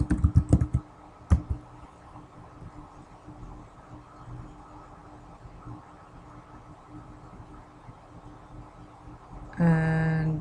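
Computer keyboard typing while entering AutoCAD commands: a few quick clustered keystrokes at the start, then a quiet stretch of low room hum, and a louder tonal burst at the very end.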